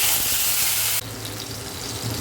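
Tomatoes drop into a hot frying pan of oil, giving a loud, steady sizzle that jumps and then settles into continuous frying crackle for about two seconds, with no voices.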